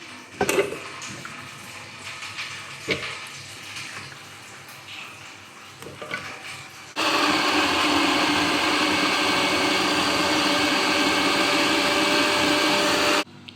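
A kitchen mixer grinder blends chopped beetroot pieces, starting abruptly partway through as a loud, steady, dense whirring roar that holds constant to the end after quieter handling noises.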